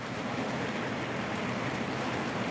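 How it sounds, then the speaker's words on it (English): Steady rain hisses in a dense, continuous wash with no breaks, loud and even throughout, with no voices. "love the sound of rain"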